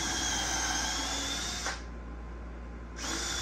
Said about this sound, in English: My drill bit's just about right long enough.